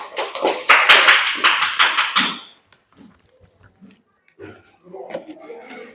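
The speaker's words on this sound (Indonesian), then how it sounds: "Kasih tepuk tangan," Students in a classroom clap together for about two seconds in a dense, fairly loud burst, then the clapping stops abruptly, leaving quiet with scattered voices talking.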